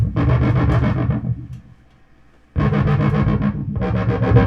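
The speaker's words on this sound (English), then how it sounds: "these distortion pedals, they really amp the gain up" A MiniFreak synthesizer through a distortion pedal, drenched in heavy distortion, two loud, buzzing sustained bursts separated by a brief near-silent pause.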